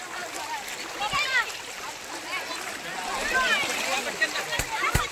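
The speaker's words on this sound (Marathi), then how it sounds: "या साईडला जास्त वाहतोय पाणी" Fast river water rushing strongly past a weir, a steady broadband wash with splashes throughout, while people talk over it.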